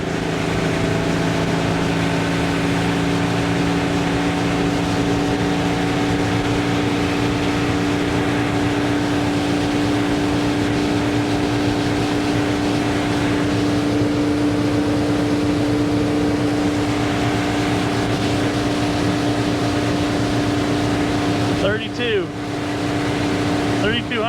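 A 1973 Cobalt motorboat, over-propped and fitted with a new SEI Marine trim system, runs across the water with a loud, even engine drone and a constant whine that holds throughout, with voices faint beneath it.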